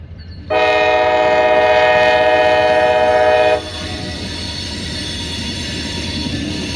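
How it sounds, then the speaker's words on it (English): A GP50 diesel locomotive hauling a short mixed freight train sounds a loud, steady multi-tone horn for about three seconds, then the rumble of rolling wheels and cars continues close by. "that GP50 maybe? At number 4060 here, short mixed freight."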